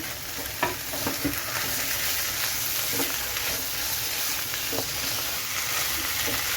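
Tomato and capsicum frying in a pan with tinned tuna for a Kerala-style tuna fry, a soft continuous sizzle with occasional light spoon scrapes and taps while stirring.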